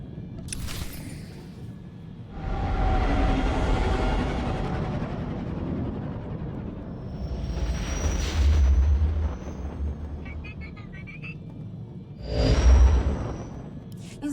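Starship engines power up in a Star Wars video game, with a deep rumbling whoosh that builds, fades, surges again with low booms and ends in a final roaring burst, without speech.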